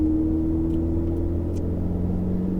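A Ferrari 488 GTB accelerating in fourth gear around the Circuit du Laquais, heard from inside as a steady, loud, low engine drone with a sustained tonal hum that rises only slightly.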